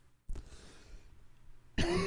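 A single short cough bursts out near the microphone at a busy trade show, followed by low background murmur and then a loud second burst of noise.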